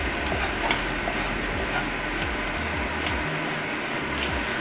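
Oil sizzling steadily in a pan while frying for a homemade chicken katsu curry, a continuous close hiss with faint clicks and stirring, no talk over it.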